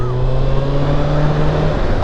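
A Kawasaki ZX-6R motorcycle engine runs loud and close at a steady high hum, with a slight pitch shift near the end, heard alone in a brief burst.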